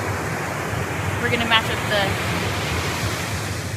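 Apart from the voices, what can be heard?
ocean waves breaking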